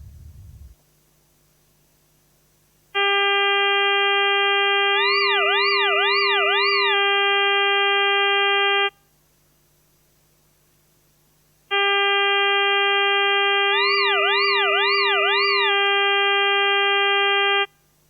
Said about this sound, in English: you heard in the middle when there was a rise and fall for 4 of those tones, and the remaining tones remained steady